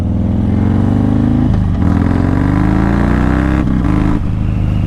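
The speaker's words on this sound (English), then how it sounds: "I have a loud motorcycle" A loud motorcycle engine revs hard and close, its harmonics climbing and dropping through repeated throttle blips over about five seconds, with no voices.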